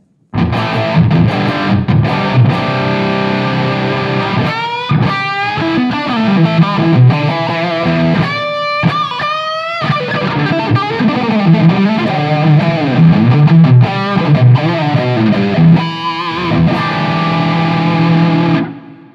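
Electric guitar played through a BIAS Head custom amp set to a crunchy distorted tone, loud and sustained, with strummed chords and single-note bends over nearly twenty seconds and a clean start and stop.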